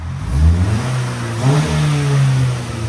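A straight-piped 2011 Buick Regal CXL revs with a deep, throaty exhaust tone around 87 decibels, rising and holding steady for a few seconds, loud and close with no talking.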